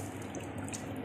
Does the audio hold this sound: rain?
no